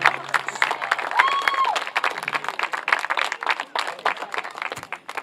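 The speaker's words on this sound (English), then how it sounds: "please stand so that we may applaud your time here at this school" A crowd at a school homecoming claps steadily and loudly for several seconds, with a brief whistle-like tone near the start and murmuring voices mixed in.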